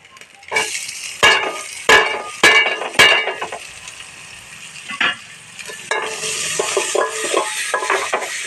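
Green chili, chopped onion, tomato and garlic sizzle in a hot pan while a utensil scrapes and clanks against it several times, followed by steady frying noise.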